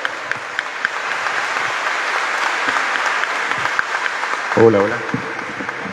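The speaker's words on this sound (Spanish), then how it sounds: "Un aplauso fuerte al Señor que se manifiesta entre nosotros." A church congregation at a Charismatic Renewal thanksgiving Eucharist applauds the Lord, a loud, sustained wash of many hands clapping through the whole stretch. A voice calls out briefly near the end.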